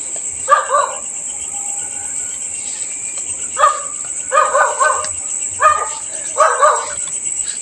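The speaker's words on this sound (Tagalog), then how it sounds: "Ayun, may aso guys." A dog barks in short bursts of several yaps at a time out in the open at night, over a steady high chirring of crickets and insects, repeating four or five times across the stretch.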